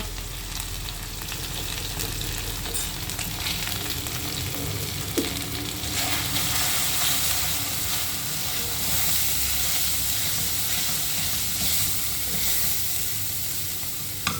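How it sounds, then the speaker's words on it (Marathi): Spices, turmeric and garam masala frying in oil for a capsicum and potato dish, a dense continuous sizzle with faint stirring, close and steady throughout. "चांगलं फ्राय करून घ्यायचं तेलात मसाले चांगले शिजवून घ्यायचे"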